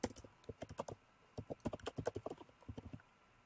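Keys on a computer keyboard clack in quick irregular bursts while someone types out OCaml code, the taps soft and fairly close with brief pauses between runs.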